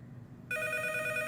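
A telephone starts ringing abruptly after a brief quiet moment, a bright electronic trill that continues steadily to the end, fairly close.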